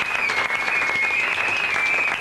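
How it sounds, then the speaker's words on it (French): Steady applause from a seminar audience, dense and loud throughout, many hands clapping together in a continuous wash with a faint whistle-like tone running underneath. "Acclamons encore très fort."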